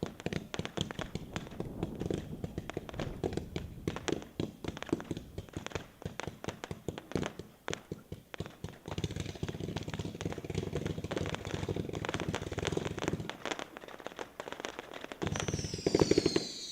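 A Rapid Fire firework cake at a dealer show fires a long run of quick, sharp crackling reports, dense and continuous for about thirteen seconds before easing into fainter pops and a final burst.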